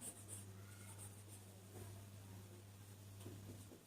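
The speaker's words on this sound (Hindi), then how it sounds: "तो यहां लिख लेते हैं अमित" Marker strokes on a classroom board as names are written out for an accountancy lesson on partner retirement, a few soft scratchy squeaks over steady low hum, close and fairly quiet, no talking.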